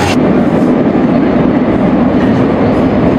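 Lisbon metro train running, a loud, steady rumbling roar of the carriage in motion with a brief high hiss at the start, close and continuous with no talking.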